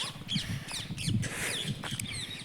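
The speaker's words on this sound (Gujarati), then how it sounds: "જો અહીંયા પોપટ બોલે છે" A parrot calls outdoors beside a road, giving repeated sharp, squawking chirps at a moderate distance, with several calls spaced through the stretch over a steady low background hum.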